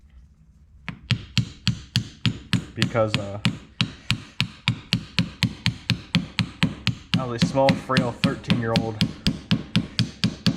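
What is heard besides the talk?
hammer tapping on motor parts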